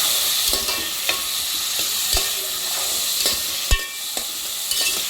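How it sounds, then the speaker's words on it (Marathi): Peas and green beans for a vegetable pulao are stirred and sautéed in a hot pan, with a steady close sizzle and sharp, spaced spoon knocks and scrapes against the pan, and no talking. "मटार आणि फरसबी थोडे परतून नरम करून घ्यायचे"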